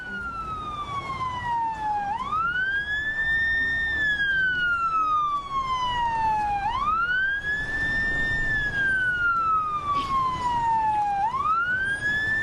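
A loud wailing ambulance siren in Lebanon after a large explosion rises and falls in long, slow sweeps, repeating three times over steady background noise.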